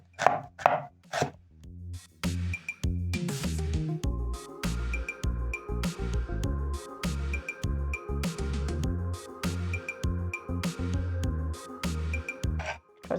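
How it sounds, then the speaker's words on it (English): A knife slices an onion in half and into strips on a chopping board, sharp rapid chops landing in quick, steady bursts, close and crisp with no talking. "So I'm going to slice my onion in half and into strips"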